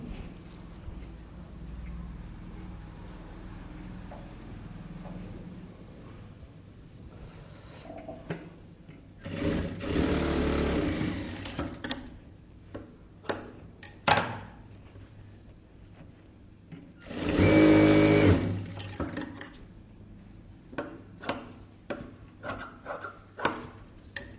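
A sewing machine stitches blouse fabric in two loud whirring bursts separated by quieter stretches of clicks, handling and soft background talk.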